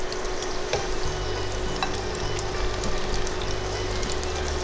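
Pieces of KFC-style breaded chicken fry in hot oil, giving a loud, steady, dense sizzle that crackles without a break, with a low hum underneath.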